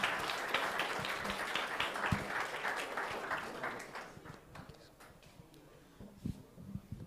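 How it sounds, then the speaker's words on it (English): An audience at a startup ecosystem panel discussion gives a round of applause, dense clapping at first that thins out and fades, with scattered claps and faint voices at the end. "Give a big round of applause for these guys."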